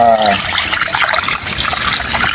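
Water pours steadily into a cooking pot for boneless humba pata, a loud continuous splashing gush close by that runs without a break.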